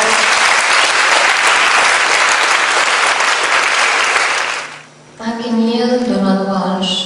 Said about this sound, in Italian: vogliamo accogliere con un grande applauso le direttrici del coaching energetico Anna Maria Mine